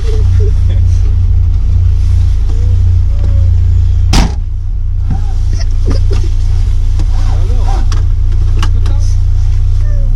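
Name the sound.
Lotus sports car engine revving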